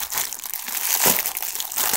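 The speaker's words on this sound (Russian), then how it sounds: "Пошуршим немножко. И открываем." Plastic parcel packaging from AliExpress holding yarn crinkles and rustles continuously, close and fairly loud, with bursts of crumpling as it is handled and opened.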